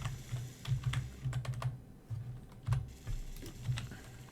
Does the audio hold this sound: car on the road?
no